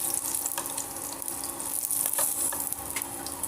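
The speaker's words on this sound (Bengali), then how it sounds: "লঙ্কাটা একটু ভেজে নেব।" Green chili frying in a small amount of oil for a poppy-seed dish, a steady, close sizzle with faint scraping and clinks running throughout without talk.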